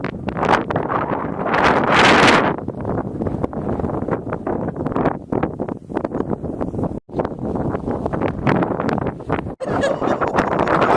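Strong wind blowing on an exposed Black Mountains summit, a loud continuous roar buffeting the microphone with gusty surges and brief lulls.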